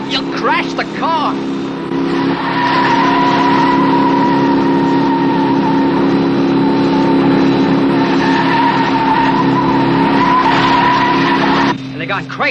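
A speeding cartoon car roars loudly and squeals its tires in a long skid, engine and tire screech sustained for most of the span, with voices briefly heard at the start and end.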